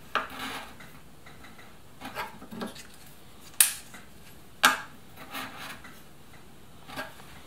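A thin kumiko wood strip is bevelled by hand, giving soft scraping rubs with a couple of sharp clicks and taps as the piece is flipped, close and quiet with no talking.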